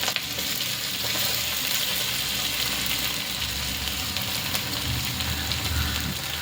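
Grated green turmeric sautés in ghee over a low flame, giving a steady, close frying sizzle that runs unbroken with no talking.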